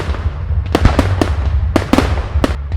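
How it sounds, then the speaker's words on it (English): Sharp crackling pops and bangs burst out in irregular clusters over a low steady rumble, like fireworks going off nearby. "Fizzing fireworks?"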